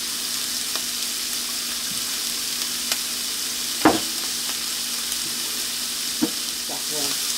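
Rice fries in a pan with a bright, continuous sizzle, and a few close utensil clicks and scrapes stand out against the crackle.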